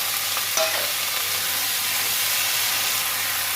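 Ginger paste fries in a pan with a steady, moderately loud sizzle and hiss and one brief clink near the start.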